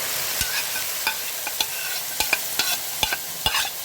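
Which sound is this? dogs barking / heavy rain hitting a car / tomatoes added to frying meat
tomatoes added to frying meat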